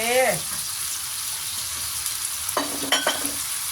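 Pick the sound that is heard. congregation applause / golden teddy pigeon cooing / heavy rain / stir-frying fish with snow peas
stir-frying fish with snow peas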